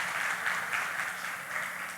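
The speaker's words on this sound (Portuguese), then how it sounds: "vamos aplaudir Jesus pela vida da Letícia" A church congregation gives sustained, steady applause throughout, dense and moderately loud, with no speech over it.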